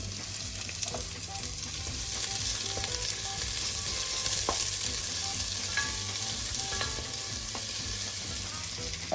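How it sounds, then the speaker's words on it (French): Shallots sautéing in hot olive oil at the bottom of a pot over high heat, a steady close sizzle with soft stirring scrapes and occasional pops, no voices. "Et quand l'huile est bien chaude, je fais revenir les échalotes."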